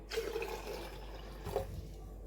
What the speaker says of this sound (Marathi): सहा वाट्या पाणी मी या जारमध्ये घेतलं आहे